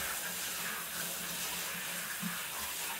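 Water from a bath sprayer runs steadily over a dog named Cleo's back as she is rinsed, a soft continuous hiss and splash at low volume with no speech.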